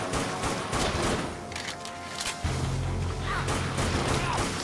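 Rifle fire in the zombie shooter Dead Nation, graveyard mission, with bursts of gunfire and crashing impacts over a busy low rumble of game action throughout.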